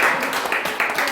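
A church congregation claps together at a Sunday service, a short burst of dense, close applause mixed with some voices.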